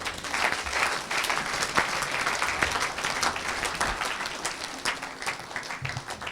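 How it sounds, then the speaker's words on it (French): Church audience applauding and cheering for Jesus during an evangelist's sermon, a dense, sustained wash of clapping with scattered shouts that holds steady throughout and eases slightly near the end. "Acclamez pour Jésus"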